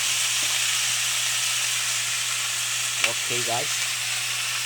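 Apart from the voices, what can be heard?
pumpkin being sautéed in a pan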